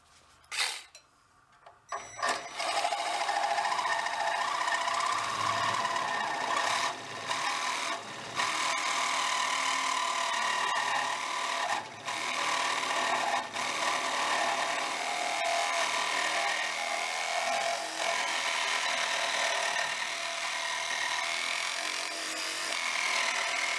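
A power tool saws through a metal bash bar during a custom Corvair Monza build, a loud continuous grinding whine that starts after a brief quiet moment and runs steadily with short dips.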